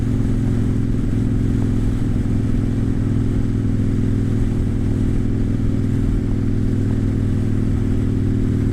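Continuous engine drone and road rumble from a motorcycle being ridden, loud and close throughout, steady with slight variations in pitch and no speech.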